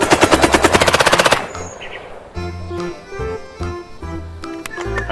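Toy M4 carbine gunfire sound: a rapid, loud burst of electronic shots in a fast regular rhythm, then an electronic sound-effect melody playing close by.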